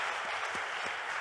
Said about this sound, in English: Please clap for this.